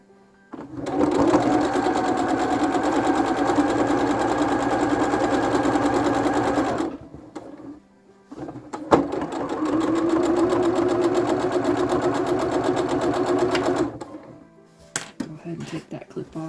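A sewing machine runs steadily while stitching quilt fabric, with two sustained bursts of loud, even motor hum and rapid needle chatter separated by a short pause, and a few soft handling sounds at the end.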